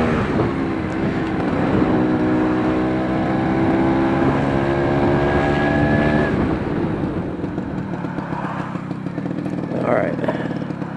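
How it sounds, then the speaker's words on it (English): Road traffic heard from a classic Vespa scooter: a loud engine drones steadily while vehicles pass nearby, with a tonal whine rising and falling, then easing off. "Quite a bit of traffic today."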